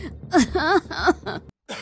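Coughing and throat clearing from people in a home kitchen filled with smoke from a chili tadka, several harsh bursts in quick succession, close and loud, followed by a short pause and one more cough.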